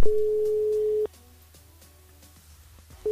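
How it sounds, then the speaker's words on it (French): A telephone ringback tone sounds while a radio show calls a listener: a steady pure beep lasting about a second, a two-second pause with faint background noise, then the tone starts again. "Magali, dans un instant, on va déjà composer son numéro de téléphone"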